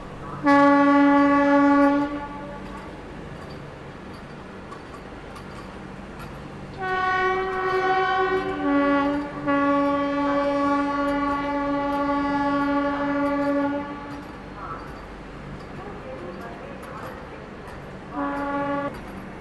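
An orange Vande Bharat train passing, with loud sustained horn blasts repeating over rolling rail noise, fairly close, no talk.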